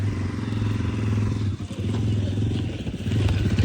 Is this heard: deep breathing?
no